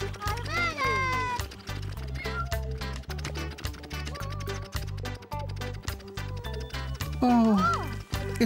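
A little black cat meows a few times over a busy background of cartoon music and sound effects, with a higher, drawn-out meow near the end.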